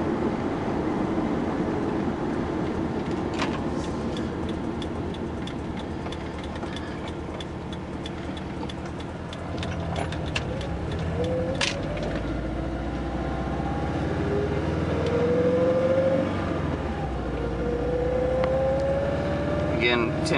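A car with a stock Subaru EJ20G turbocharged engine, on a test drive in second gear, accelerating at full throttle. A steady engine drone runs throughout and swells with rising whine tones near the end, heard from inside the cabin.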